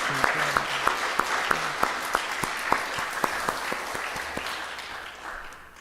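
A church congregation claps together during a worship service, with sharp, evenly spaced claps in a steady unison rhythm that soften and fade toward the end, heard alone without talk.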